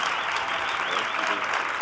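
Sustained applause from a large audience at a general session of an LGBTQ movement conference, a dense, steady wash of clapping hands filling the room.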